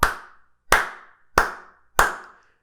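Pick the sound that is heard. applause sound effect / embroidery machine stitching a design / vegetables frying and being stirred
applause sound effect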